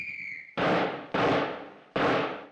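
Three sharp gunshots ring out in the 1931 gangster film The Public Enemy, each a loud crack with a decaying echo, spaced about half a second apart after a brief tone.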